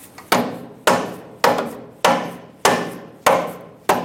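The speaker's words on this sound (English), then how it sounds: "Swing it up into the front with a rubber mallet. Tap it in place." Seven sharp, evenly spaced knocks from a rubber mallet tapping an automotive part into place, each strike crisp and close with a short decaying ring, no voices.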